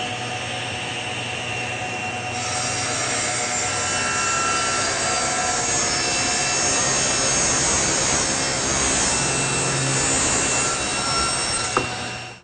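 A table saw spins up and rips a taper along a wooden leg, the blade's steady whine joined by a rising cutting roar that holds for about ten seconds before winding down, loud and close.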